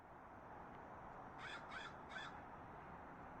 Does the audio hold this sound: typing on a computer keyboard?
no